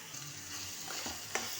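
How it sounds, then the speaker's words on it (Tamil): Tomatoes with salt sizzle gently in a pan as they are stirred, a soft continuous frying hiss with light scraping strokes and one brief utensil tap near the end. "தக்காளி நல்லா வதங்கி மசிஞ்சு வரணும்."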